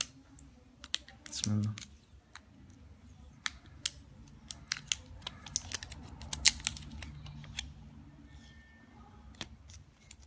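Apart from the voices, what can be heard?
opening a mobile phone's battery compartment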